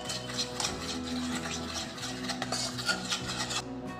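Milk cream and curd are stirred together by hand with a spoon in a bowl, giving a soft, steady rubbing and scraping sound, close and quiet.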